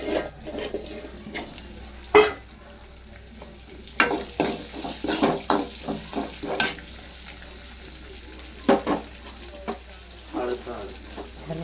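Onion and tomato frying in a pan while being stirred: a steady low sizzle runs throughout, broken by repeated clinks and scrapes of a spoon against the pan.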